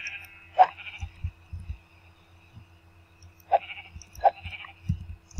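Sheep bleats from the Minecraft video game, three short nasal bleats spaced apart, with soft thumping game sounds between them and no talking.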